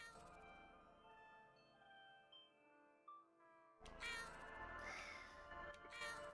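A cat meows from the video game YiiK, a soft electronic-sounding mew heard over steady game music with a tonal background drone.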